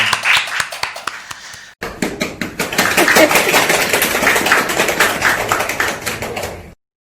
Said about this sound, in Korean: 자, 환영의 박수하겠습니다.